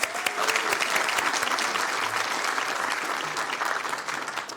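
Audience applause fills the room after an award presentation, steady clapping from many hands that holds even and fairly close before starting to thin toward the end.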